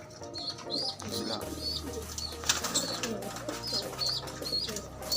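Pigeons coo repeatedly in a steady chorus, with soft chirps and a low hum of background noise underneath.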